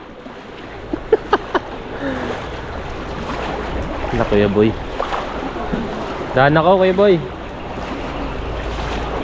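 A small wooden boat on open water in a flooded area, with wind, lapping water and a low motor hum under a man calling out and a few nearby voices.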